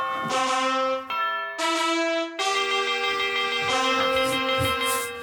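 A series of ringing bell-like tones plays close and clear, each note sustaining and overlapping the next with bright, shimmering overtones.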